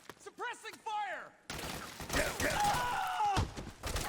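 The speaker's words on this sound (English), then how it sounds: "Enemy contact. See, all good. Suppressing fire." Gunfire in Metal Gear Solid 4 erupts after a short vocal sound, a loud rattling burst of shots mixed with game effects and a few heavy impacts.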